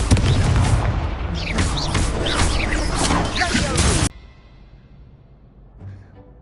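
Confringo fire spell blast in the Hogwarts Legacy video game, a loud, dense burst of crackling, booming explosion and combat noise lasting about four seconds before cutting abruptly to a quiet, low background.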